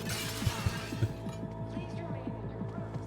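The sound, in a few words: glass shattering in the video game Cyberpunk 2077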